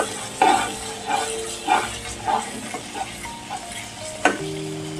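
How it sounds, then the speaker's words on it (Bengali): Spice paste for a Bengali katla fish kalia sizzles in oil, with a soft crackle running under repeated scraping stirs of a spoon against the pan. Each stroke lands at a fairly steady rhythm, and the frying stays close and moderately loud. "কি সুন্দর তেল ছেড়ে দিয়েছে মশলা দিয়ে।"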